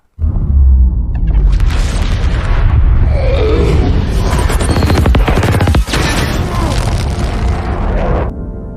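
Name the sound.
explosion in film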